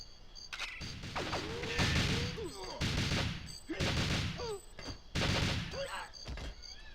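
In GoldenEye 007 a sentry gun is shot down with several loud, close bursts of automatic fire separated by short pauses, mixed with whining ricochet-like game effects.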